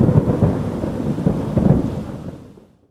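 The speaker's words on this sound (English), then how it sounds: "One afternoon, Ben and Sue were playing in the garden when a storm began" Thunder rolls in a long, deep rumble over steady rain, loud and close at first, then fading away to silence over about three seconds.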